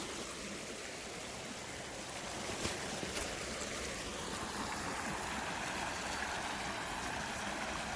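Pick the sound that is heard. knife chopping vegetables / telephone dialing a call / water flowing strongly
water flowing strongly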